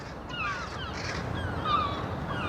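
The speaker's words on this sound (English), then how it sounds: "the seagulls are fighting the crows" Seagulls and crows squabble near a Neolithic passage tomb in Ireland's Boyne Valley, with harsh caws and calls overlapping above a steady outdoor background.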